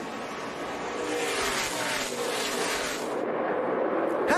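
NASCAR race cars at Phoenix roar past in a steady, loud engine drone during a last-lap battle for the lead, with a pitch sweep as cars pass.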